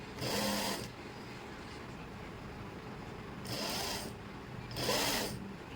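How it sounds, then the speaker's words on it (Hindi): A sewing machine stitches a sleeve onto a garment in three separate bursts of whirring, fairly close and steady, with quiet pauses between runs and no talking. "यहाँ तक हमने सिलाई लगा ली।"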